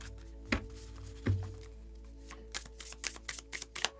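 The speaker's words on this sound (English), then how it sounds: "give this a handy dandy shuffle" Tarot cards being shuffled by hand close up, a couple of soft thumps followed by a run of quick riffling snaps and flicks, quiet and without talk.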